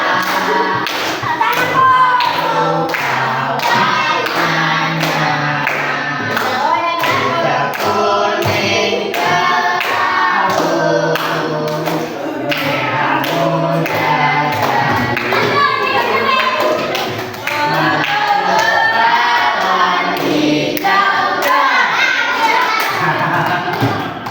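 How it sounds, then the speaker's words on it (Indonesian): Sixth-grade classroom children clapping hands together in a group, rhythmic sharp claps repeating throughout, mixed with children's voices and singing. "Tepuk tangan bareng-bareng"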